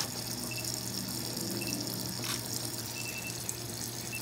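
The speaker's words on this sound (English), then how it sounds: "Give that a rinse, sir. Give it a rinse." Water runs steadily from a tap into a sink as a patient rinses their mouth after braces are removed, a constant close gushing stream with no talk.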